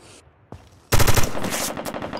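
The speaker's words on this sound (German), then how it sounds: "Da ist schon noch geschossen." Automatic gunfire in the game America's Army: Proving Grounds, a short loud burst of rapid shots after a couple of fainter sounds, with no speech over it.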